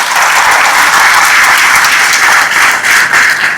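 An audience at an International Yoga Day gathering applauds the yoga guru, with loud, dense clapping from many hands sustained evenly throughout, close and unbroken, with no voices over it.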